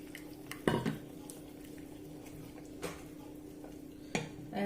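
Tomato puree and besan mixture being stirred in a pot for kadhi, with a few sharp metallic clanks of a utensil against the pot over a faint steady hum, otherwise quiet.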